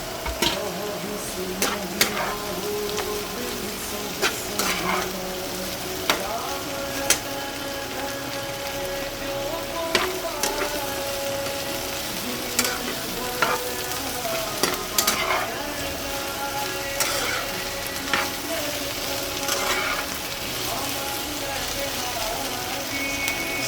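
Cut okra pieces sizzle steadily in an oiled pan, a dense close frying hiss broken by repeated clacks and scrapes of a spoon stirring, with faint talk now and then.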